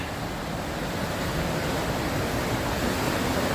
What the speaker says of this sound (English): Here's the river that goes through Vail, and it's really flowing hard right now because of all the snow melt.